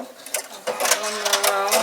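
A sewing machine runs in short bursts as it stitches a fabric bunny bag, its rapid mechanical whirring starting, pausing briefly, then continuing in a longer run close by.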